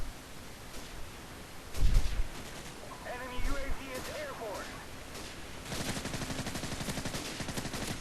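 Silenced gunfire in Call of Duty 4 in a Wetwork domination match: a few muffled thumping shots, then a rapid run of suppressed rounds near the end, with a voice talking over the shooting.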